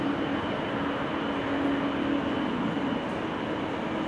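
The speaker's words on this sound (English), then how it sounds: "I think it's the engines of this airplane." A steady, loud roar of airliner jet engines at Amsterdam Schiphol Airport, with a sustained low hum, unbroken and even, on a windy, showery day.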